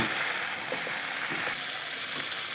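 Spice paste sautéing in a pan for a Bengali pumpkin and prawn curry with potatoes, a soft, steady sizzle with faint stirring scrapes throughout, no voices.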